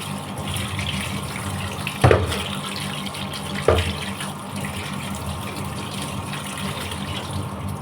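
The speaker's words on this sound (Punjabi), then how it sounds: "ਉਪਰੋਂ ਠੰਡਾ ਪਾਣੀ ਪਾ ਲੈਂਦੇ ਆ" Cold tap water pours steadily over drained boiled pasta in a colander at a home kitchen sink, a continuous splashing wash with two brief louder clanks near the start; no one speaks.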